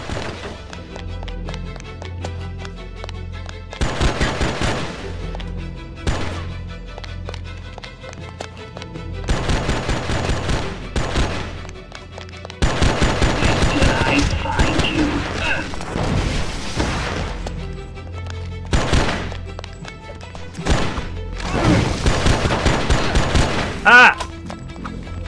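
Video game gunfire crackles in repeated bursts, some dense and sustained like automatic fire and others short and sharp, over steady game music and background sound.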